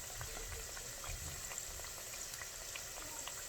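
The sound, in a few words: empanadas frying in oil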